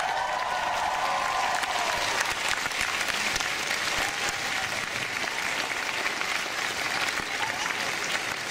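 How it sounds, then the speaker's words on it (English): A large event audience applauds and cheers steadily as a woman comes up on stage, a loud, continuous wash of clapping and crowd noise throughout. "Let's cheer her on as she comes up."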